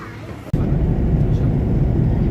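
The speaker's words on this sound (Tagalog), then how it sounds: "Dito na kami sa loob ng aeroplano." Inside an airplane cabin in flight, a dense, steady low roar of engine and air noise fills the space after a short dropout, constant and close.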